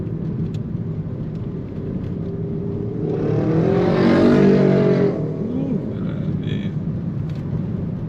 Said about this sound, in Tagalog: Sinasadya niya talagang marurot pag-overtake.